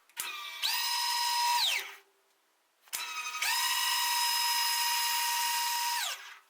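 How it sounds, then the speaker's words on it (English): Power feed motor on a Jet JMD-18PFN mill drill whining in two steady runs, each ramping up to a constant high-pitched drone and winding down, with a brief quiet gap between. "This is where power feed is nice, but also a little bit noisy."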